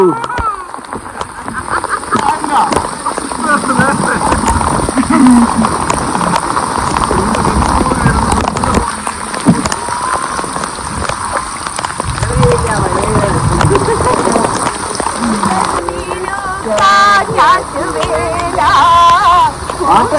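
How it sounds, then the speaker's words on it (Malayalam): Heavy rain pours steadily throughout a family trip to Munroe Island in Kollam, a dense continuous wash under frequent nearby talking and voices. "നല്ല മഴയാട്ടോ."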